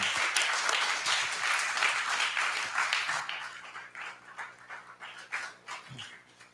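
An audience at the close of an evening event with guests applauds in a dense, steady burst of clapping that thins out toward the end.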